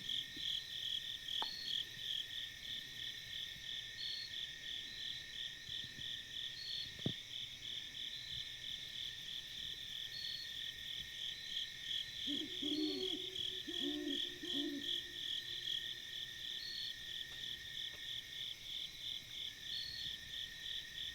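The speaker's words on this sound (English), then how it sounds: "listen to those owls all night and bugs" Owls hoot at night in a mountaintop wilderness, a few soft calls drifting in over a constant, pulsing chorus of chirping crickets and insects, faint and distant with no talking.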